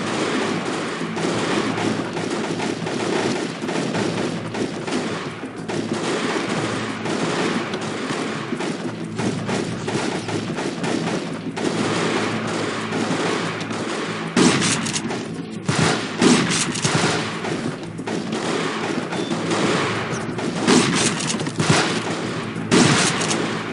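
Gunfire comes from a fortification in the video game Delta Force: Black Hawk Down, with sustained dense volleys of shots and automatic bursts over a constant battle din, heaviest toward the middle.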